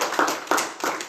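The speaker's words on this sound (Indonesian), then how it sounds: "Tepuk tangan dulu buat Tuhan kita." A church congregation at a Sunday service claps hands in a slow, even rhythm, three or four broad group claps spread across a second, moderately loud in a reverberant room.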